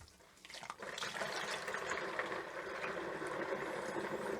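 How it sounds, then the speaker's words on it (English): Shiraz wine kit juice pours steadily into a fermenter, a soft continuous splashing and gurgling of liquid that stays fairly quiet and close for a few seconds. "So now I need to pour my juice"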